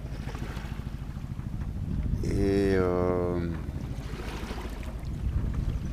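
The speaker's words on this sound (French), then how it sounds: "c'est une nuit au moteur, très lentement" A sailboat on a solo transatlantic crossing motors slowly through the night. A steady low engine drone runs throughout under wind and water noise, and a voice speaks briefly in the middle.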